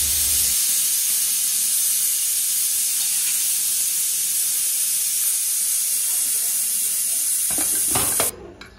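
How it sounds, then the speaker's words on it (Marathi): A pressure cooker of mutton on a high gas flame lets off steam in a loud, steady, close hiss that holds for several seconds and then stops sharply, followed by brief clattering. "तर आता आपण किती वेळ ठेवणार कुकरमध्ये? 3 शिट्या."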